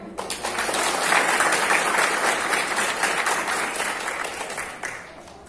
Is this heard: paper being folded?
no